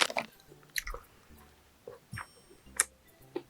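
Crunchy snacks chewed close to the mic during a mukbang, several irregular crisp bites and crunches separated by quiet pauses.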